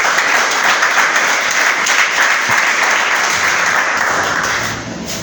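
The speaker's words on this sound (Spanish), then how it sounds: "Denle otro aplauso al Señor" A church congregation applauds for the Lord during a sermon, loud dense clapping that fills the space steadily and begins to fade in the final second.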